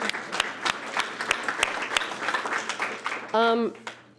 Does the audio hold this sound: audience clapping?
yes